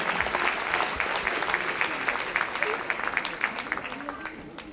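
An audience at the Ankara Circassian Association's year-end show applauds its general coordinator, a dense, loud round of clapping that stays strong before easing slightly near the end.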